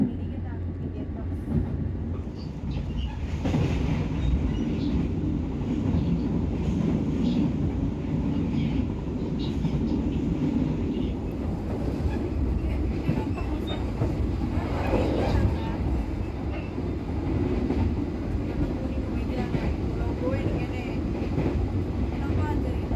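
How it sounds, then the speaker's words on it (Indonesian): The Gaya Baru Malam Selatan passenger train pulls into Arjawinangun station with a loud, close, steady rumble of wheels and carriages that runs throughout, with some wind buffeting. "kereta api Gaya Baru Malam Selatan telah tiba di stasiun"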